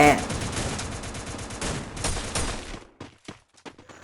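Rapid gunfire bursts from a Free Fire battle royale video game fight, dense and continuous for about three seconds before breaking into a few scattered sharp shots.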